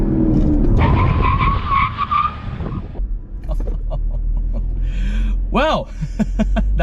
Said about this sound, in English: let's go ahead and do a little brake test to test them out at 60.